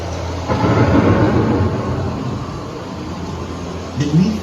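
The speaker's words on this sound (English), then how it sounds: "The approaching storm may seem violent and destructive to us" A simulated thunderstorm effect on Epcot's Living with the Land boat ride rumbles as a broad, steady roar that swells at the start and again near the end, loud and close.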